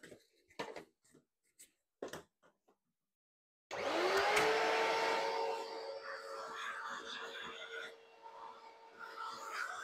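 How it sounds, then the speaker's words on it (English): A vacuum cleaner roars to life and runs steadily, sucking debris out of the dirty burr chamber of an Anfim SPII coffee grinder, preceded by a few scattered clicks and knocks of parts being handled. "this is where we're going to get the vacuum"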